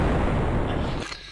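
Explosion in a Japanese trap-filled action video game, a loud, dense booming rumble that fills the first second and then cuts off abruptly into quieter game sound.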